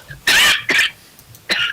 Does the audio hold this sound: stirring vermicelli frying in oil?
no